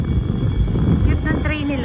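A train rolls past at Google headquarters in California, a loud, low continuous rumble mixed with wind buffeting on the mic, with faint voices nearby.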